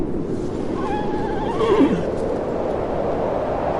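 A horse gives a single clear whinny over a steady rushing background, with faint hoof sounds.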